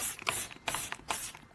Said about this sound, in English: so I'm spraying this all over the flower, the soil, and the leaves.